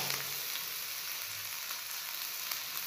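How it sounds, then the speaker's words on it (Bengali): Carrots, green chilies and beans stir-frying in a pan for an egg roll filling, giving a steady broadband sizzle with soft stirring scrapes throughout, close and unbroken, with no talk. "এবার এগুলোকে আমি একটু নাড়বো।"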